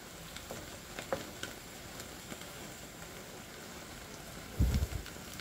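Minced beef frying in a pan for spaghetti bolognese, a steady soft sizzle with light crackles, and a brief louder clatter near the end.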